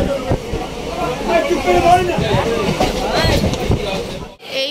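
Crowded train interior with a dense babble of many voices and people talking close by over a continuous rumble of the moving carriage, steady throughout before a brief drop near the end.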